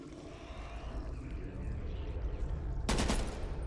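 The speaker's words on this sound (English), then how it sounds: "Shit, I didn't mean to shoot." Gunshots from Back 4 Blood crackle in a quick rattling flurry under background game noise, ending in a sharper, louder burst of fire near the end.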